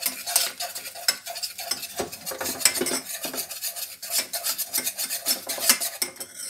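A spoon scrapes and stirs briskly in a pan while spoonfuls are worked into a béchamel sauce, with rapid rasping strokes, clinking metal and a light sizzle underneath, close and uninterrupted by speech.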